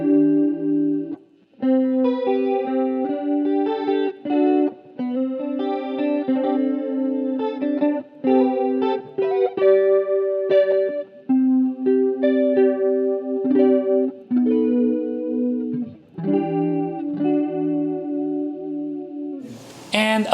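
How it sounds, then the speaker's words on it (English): NUX chorus stompbox in pitch modulation mode on an electric guitar, playing a steady run of sustained chords and picked notes with a light, wavering chorus shimmer, close and loud with no talking. "Then the pitch modulation, which gives you a light chorus sound here."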